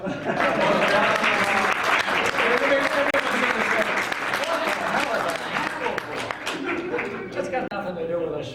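A nostalgia convention audience applauds steadily for several seconds, dense clapping with some crowd voices mixed in, fairly loud and close.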